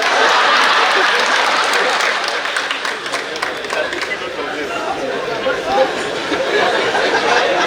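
Women in an audience at an emerging markets forum clap briskly alongside chatter and light laughter, a dense, lively patter of hands that swells and eases across several seconds.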